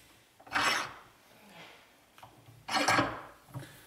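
A bench vise is cranked tight on a bolt head, giving two short, close rasping scrapes of metal on metal separated by quiet pauses.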